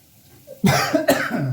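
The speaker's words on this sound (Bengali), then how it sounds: "হালকা কাশি হতে পারে" One person coughs hard twice after breathing in steam from hot ginger water, two loud, close bursts in quick succession with a rough, throaty edge.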